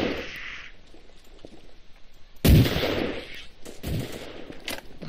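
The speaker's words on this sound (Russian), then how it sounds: "И стреляет он с саги, что ли" Saiga shotgun blasts and automatic rifle fire in the online shooter Stalker Online. Heavy, loud bursts come in a few separate volleys after a quieter start, each cracking sharply and trailing off.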